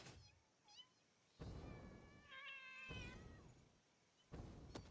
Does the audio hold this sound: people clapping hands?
no